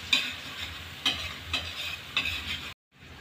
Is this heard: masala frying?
yes